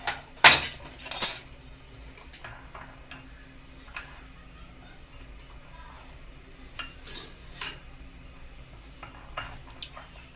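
A spoon stirs red chili powder and turmeric into a chicken korma mixture in a pot, giving a few loud clinks at the start, then sparse, soft scrapes and taps over near silence.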